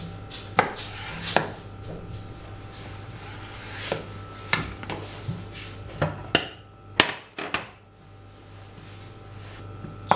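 A knife slices through a homemade sushi roll on a cutting board, giving a series of sharp, close chopping knocks at an uneven pace with pauses between cuts and no talking.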